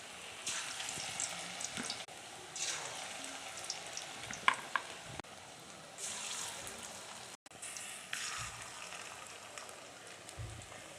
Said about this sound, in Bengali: তো চলো বড়াটা ভাজা যাক।